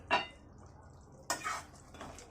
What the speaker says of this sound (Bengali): ঢাকনাটা তুলে নিলাম